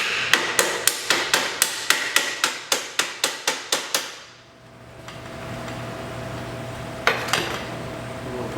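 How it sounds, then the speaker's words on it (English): Rubber mallet hammering on a 1948 Harley-Davidson chassis during teardown, about fourteen quick, even, close blows, then a pause with faint workshop hum and one last knock. "This is a rubber mallet for those who are unfamiliar."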